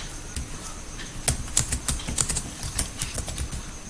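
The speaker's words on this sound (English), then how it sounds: "If you keep on typing text," Keys clatter on a computer keyboard while text is typed into a Microsoft Word 2016 document, a quick irregular run of close, crisp clicks with no talking.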